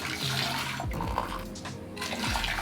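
Running tap water pours steadily over quinoa being rinsed, a close, continuous splashing rush with a few brief pauses and shifts in the flow, no voices.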